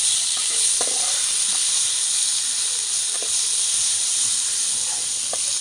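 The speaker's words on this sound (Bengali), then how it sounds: "আর চিকেনটা কিন্তু খুব ভালো করে ডিপ ফ্রাই করে নিতে হবে।" Chicken deep frying in a non-stick pan sizzles loudly and steadily, a dense bright hiss with occasional small pops and crackles throughout.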